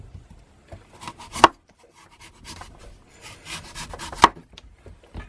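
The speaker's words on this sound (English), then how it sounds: "Just trimming up the edge there." A knife trims the edge of a celeriac root for a vegetarian split pea soup: close, scattered scraping and rubbing cuts, with two sharp chops onto the board.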